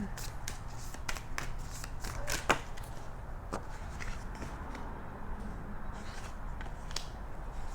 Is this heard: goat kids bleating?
no